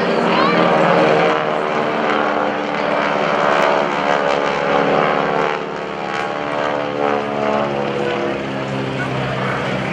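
GEICO Skytypers propeller planes roar loudly overhead at the 2015 NAS Oceana airshow, a sustained droning engine sound swelling and easing while an announcer talks.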